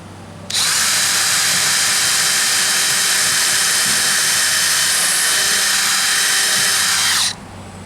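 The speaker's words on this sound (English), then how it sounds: "hope you don't hear the air conditioning unit because it just turned on" An air conditioning unit switches on with an abrupt loud, steady rushing whir that holds evenly for about seven seconds before cutting off sharply, close by and without voices.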